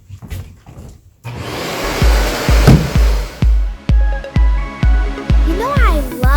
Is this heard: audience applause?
no